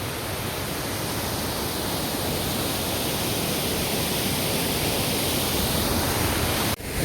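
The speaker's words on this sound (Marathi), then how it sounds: "तुम्ही बघू शकता कोकण धबधब्यातील पाणी" Steady, dense rush of water from a Konkan waterfall near a cliff edge, broadband and continuous at close range for the whole stretch, with a brief dip and a knock near the end.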